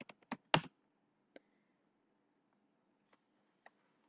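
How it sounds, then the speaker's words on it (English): Typing on a computer keyboard and pressing enter, a brief cluster of quick key clicks with one louder press, then a few sparse, faint taps in a quiet room. "if I typed here and click on yes and hit enter"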